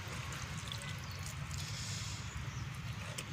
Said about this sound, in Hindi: ऐसे डाल देंगे पानी थोड़ा थोड़ा, पूरे में पानी डालेंगे, एक जगह पानी नहीं डालना है।